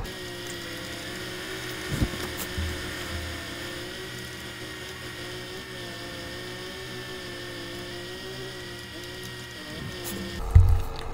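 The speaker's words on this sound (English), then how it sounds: "It's probably not the best that we're mowing whilst it's snowing outside" A mowing machine in Farming Simulator 22 runs with a steady, continuous engine drone during snowy weather. A brief thump comes midway and a louder clunk near the end.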